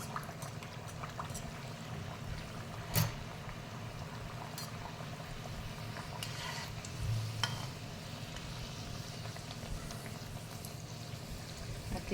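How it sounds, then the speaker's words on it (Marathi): Sweet potato puris deep-fry one at a time in hot oil, making a soft continuous bubbling hiss with a couple of faint clinks, quiet and without speech. "तेल छान तापलेलं आहे तर आपण एक एक पुऱ्या या तळून घ्यायच्या"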